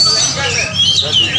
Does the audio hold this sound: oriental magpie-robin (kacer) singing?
yes